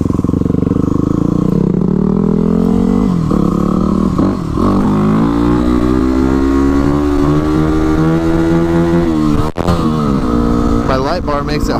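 Yamaha WR250R supermoto motorcycle riding on a road, its engine droning loud and steady with rising and falling pitch through the gears, plus constant wind rush and a brief dip near the end.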